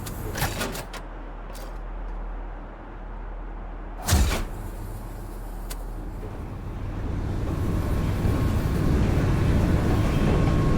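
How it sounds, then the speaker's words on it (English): A monorail train in the video game Firmament rumbles along steadily, its low mechanical drone growing louder and fuller toward the end, with a sharp clank partway through. "Monorail."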